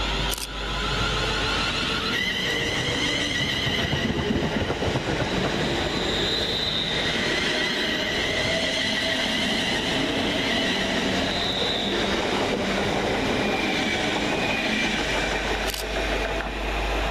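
Two coupled London Northwestern Railway Class 350 units, 350-267 and 350-114, pull out of Leighton Buzzard station with a loud, continuous rumble, high wheel squeal and rhythmic rail clatter close by.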